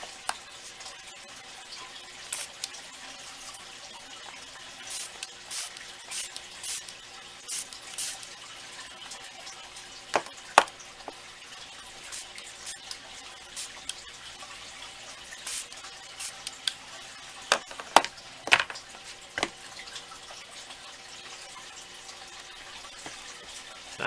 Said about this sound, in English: A little spray mister of water.